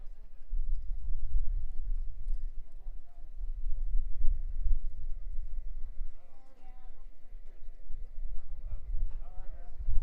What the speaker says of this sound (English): we do have another horse coming here